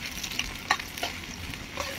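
Onions stir-frying in a pan for a beef rendang, a steady low sizzle with soft scraping stirs and a few sharper clinks of the utensil against the pan.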